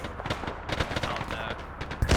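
Gunfire in Arma 3 during a combat operation: rapid bursts of shots and crackling rounds, dense and fairly loud, with a heavier blast near the end.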